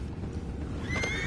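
A horse whinnies in Red Dead Redemption 2, a rising neigh near the end of the clip over steady low rumble and ambient game noise.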